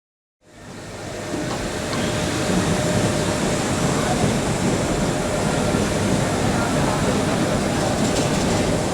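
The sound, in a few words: Nilgiri Mountain Railway train departing Coonoor Station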